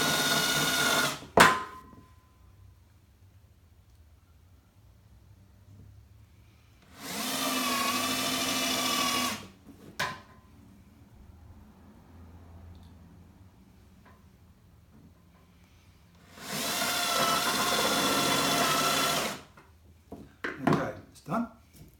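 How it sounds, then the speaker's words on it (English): A power drill drives three small coloured screws into the holes of a pool cover roller hand wheel in two loud bursts of a few seconds each, separated by quiet, with short clicks and handling noises around them. "I'm going to take 3 of these little coloured screws and just drive them into the holes on the hand wheel."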